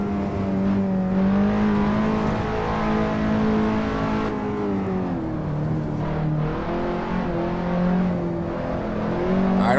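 A race car engine in the Assetto Corsa driving game holds a loud, steady, high-revving drone with rising and falling pitch as it shifts and works through corners, filling the whole stretch without pause.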